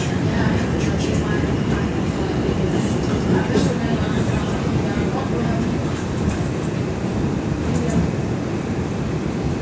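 Steady onboard rumble of an R142 subway train running on the Manhattan-bound 4 Express line in the Bronx, a dense continuous roar with faint high whine, loud and unbroken throughout.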